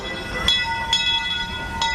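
A Disneyland park train rumbles along steadily in the rain with sustained tonal ringing and three sharp clanks, heard nearby with no talking.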